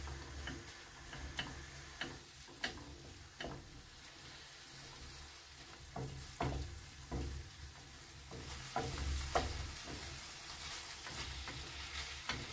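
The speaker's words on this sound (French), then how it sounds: "Maintenant, on ajoute les raisins secs, on mélange et on les laisse revenir un peu" Raisins sautéing with spices in a pan for Tlemcen couscous tfaya, a low steady frying hiss broken by sharp, regular clicks of a spoon stirring against the pan, close and quiet with no voices.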